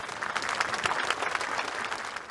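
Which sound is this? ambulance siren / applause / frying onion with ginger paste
applause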